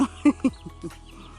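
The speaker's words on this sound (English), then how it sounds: "Watch Papa Duck a peep." A duck on a farm in Jamaica gives a few short, close peeps and quacks in quick succession, fading into quieter calls near an outdoor breakfast cookfire.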